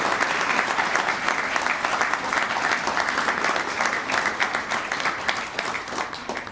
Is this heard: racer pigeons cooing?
no